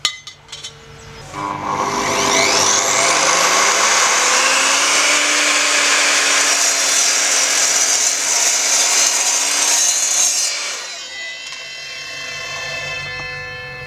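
An Evolution R255SMS sliding mitre saw spins up and cuts through a composite decking board with a loud, sustained whining rip of about nine seconds, then the blade winds down and fades.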